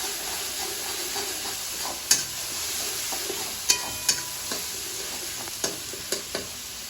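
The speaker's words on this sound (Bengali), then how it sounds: "এটা একটু ভাজা ভাজা মতন হবে মশলাটা" Onion and chili paste sizzles and crackles steadily in a hot pan over a raised gas flame, with several sharp clinks of a spoon scraping the pan at irregular intervals.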